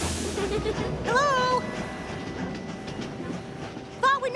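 A cartoon train rumbles and clatters into a station under a steady low hum, joined by brief bright warbling tones at the start and end, with no speech.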